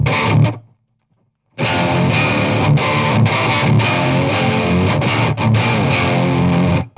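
An electric guitar runs through a whammy pedal, giving loud, heavily distorted, pitch-bent riffing that plays steadily after a brief stop and a silent gap.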